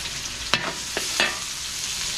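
Garlic and onion sautéing in a hot pan during home cooking for a house blessing in a Quezon City subdivision, a steady close sizzle broken by a few sharp stirring scrapes, with no talking.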